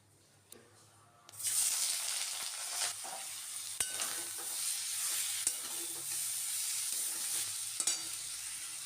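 Oil sizzles in a wok during village cooking, a quiet start then a steady hiss and frying crackle beginning suddenly after a second, with occasional sharp clicks of stirring and no talk.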